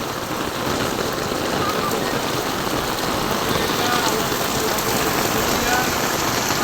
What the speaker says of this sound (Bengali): সেই রকম বৃষ্টি হইতেছে।